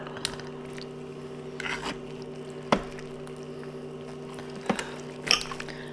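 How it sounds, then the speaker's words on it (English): Slow-cooked pork butt is pulled apart in a pot, giving soft, wet squishes and a few scattered clinks at close range over a low steady hum, with no talking. "we're going to go ahead and take a lot of this meat off"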